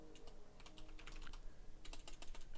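Fingers type a console command on a computer keyboard, producing rapid clusters of close, crisp key clicks in an irregular rhythm, faint overall and with no talking.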